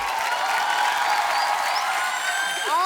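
An audience at a Bollywood event welcomes actors Arjun Kapoor and Shraddha Kapoor with a dense wash of clapping and cheering that holds steady throughout, with a few whistles rising near the end.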